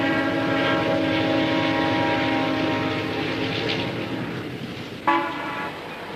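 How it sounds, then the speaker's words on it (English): A morning train bound for Tampa passes in a small Florida town, its horn sounding a sustained chord over the rumble of the rails, then fading before a short sharp clank near the end. "Except the morning train to Tampa."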